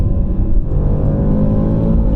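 A Range Rover Sport SVR engine, held in manual mode, drones loudly and steadily at high revs, a rich close-up roar with no pauses.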